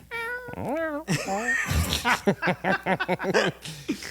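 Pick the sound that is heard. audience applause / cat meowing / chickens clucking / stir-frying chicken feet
cat meowing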